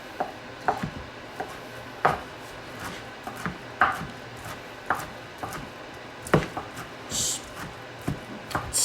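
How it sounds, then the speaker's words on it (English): A knife chops a BBQ pizza topping on a board, a run of close, irregular thuds and knocks at an uneven rhythm with short pauses, no voice over it. "I'm going to chop it up, like really chop it up"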